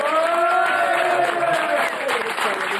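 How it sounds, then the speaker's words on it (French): An audience applauding, a dense, loud wash of clapping with crowd voices rising through it, steady for a few seconds. "Et on peut les applaudir"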